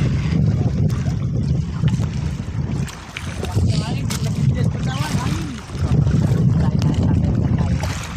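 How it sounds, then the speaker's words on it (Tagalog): Strong wind buffets a small fishing boat out at sea, a steady loud roar of gusts and wind noise on the microphone with engine-like low rumble throughout, easing briefly before surging again, while people talk over it. "lumalakas na naman ang hangin"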